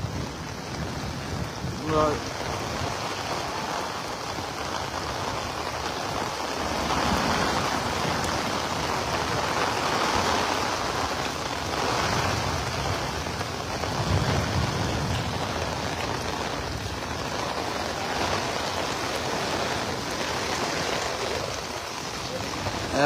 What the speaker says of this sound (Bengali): এবং মুসলধারে বৃষ্টি হচ্ছেই